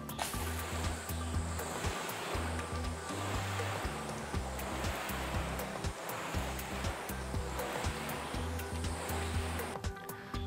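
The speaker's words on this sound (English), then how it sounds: "So I'm now going to apply water onto the bonnet." Water sprays onto a car bonnet during a wash, a steady hissing spray that runs continuously throughout, close and fairly loud with no talking.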